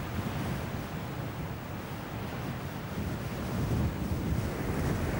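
Waves wash steadily onto a sand beach with a continuous broad roar of surf, mixed with wind buffeting the microphone, and no voices.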